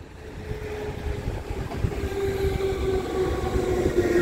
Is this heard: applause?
no